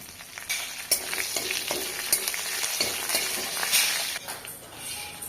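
Cumin, garlic, green chili and curry leaves sputter in hot oil, a loud, busy crackling sizzle with sharp pops scattered throughout and a utensil stirring now and then.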